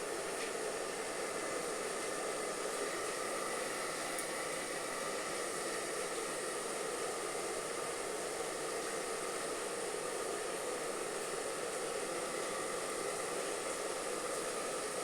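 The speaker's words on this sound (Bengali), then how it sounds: "একটু হেয়ার ড্রায়ার দিয়ে চুলটা শুকিয়ে নিই" A hair dryer blows hair dry indoors on a rainy, humid day, giving a steady, even rushing whoosh of air that holds unchanged for the whole stretch with no talk over it.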